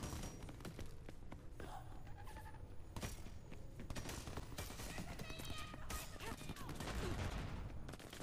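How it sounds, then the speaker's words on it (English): Gunfire in the Crackdown 3 video game, a dense fusillade of rapid shots and thuds running continuously and loud throughout, with faint voices mixed in. "Let those bullets fly."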